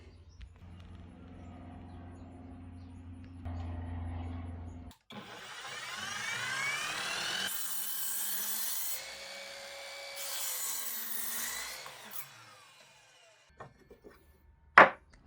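A 20V cordless miter saw running on a 5-hour battery makes a test cut: the motor spins up with a rising whine, bites through the wood with a rough buzzing cut, then winds down, ending with a sharp clack.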